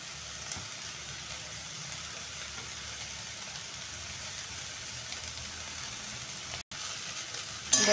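Soybean chunks frying in hot oil in a pan make a steady, even sizzle close by that holds for several seconds, with no voices.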